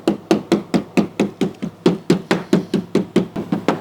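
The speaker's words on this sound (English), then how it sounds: "I'm just gonna come through with the screwdriver and I'm just gonna smash down on it" Sharp repeated striking, about fifteen evenly spaced blows in quick rhythm, close and loud, as a screwdriver is hammered down onto a Rok Block tailgate seal on a 2022 Ford F150 Overland.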